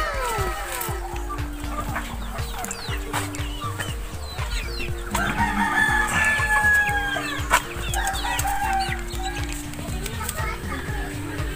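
Backyard pet chickens in a rural yard cluck and a rooster crows over busy background chatter and children's voices, with scattered knocks and rustles throughout.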